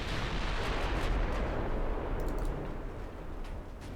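Continuous booming gunfire and explosions in a Byzantine Empire campaign strategy game, a dense rumbling barrage that stays loud throughout with occasional sharper cracks.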